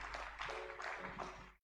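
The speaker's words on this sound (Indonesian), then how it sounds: "Tepuk tangan sekali lagi bagi Tuhan Yesus." A church congregation gives a brief round of applause during worship, a dense, roomy patter of many hands at moderate level that cuts off abruptly.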